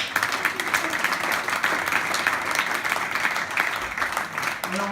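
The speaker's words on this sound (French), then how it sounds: "on applaudit s'il vous plaît" Audience applause at a French comedy show, a steady wash of many hands clapping that keeps going throughout, fairly loud and even, with no voices standing out above it.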